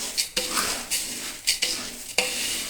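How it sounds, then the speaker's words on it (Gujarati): Puffed rice is roasted in a pot until crisp, with about five rhythmic scraping stirs of a utensil over a soft sizzle, close and clear. "જો આવા ક્રિસ્પી થાય ત્યાં સુધી આપણે તેને તપેલામાં શેકવાના."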